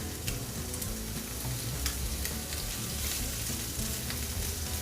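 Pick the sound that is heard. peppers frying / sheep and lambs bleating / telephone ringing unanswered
peppers frying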